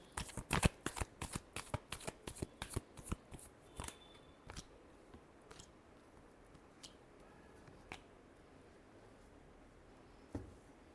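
Tarot cards being shuffled by hand for a reading: quick, crisp riffling bursts in a close, rapid run, then a few scattered soft card flicks and taps in a quiet room.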